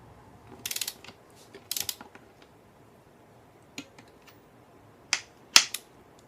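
A torque wrench clicks while bolts are tightened during an NP249 transfer case rebuild: a few sharp, separate metallic clicks and short ratcheting bursts spaced across several quiet seconds, close and distinct.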